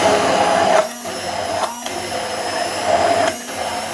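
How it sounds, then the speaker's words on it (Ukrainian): A handheld immersion blender whips homemade mayonnaise in steady loud whirring stretches, its motor pitch dipping briefly a few times as the blade is lifted and lowered through the thickening emulsion. "І тепер блендер піднімаю і збиваю."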